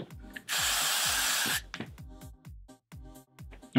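Hairspray from an aerosol can misting onto a wig, one steady hiss lasting about a second, followed by soft handling and rustling noises close by.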